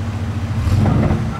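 A Land Cruiser engine idles and revs low while backing up off-road at Coppinger Cove, a steady close rumble with a slight rise in throttle partway through.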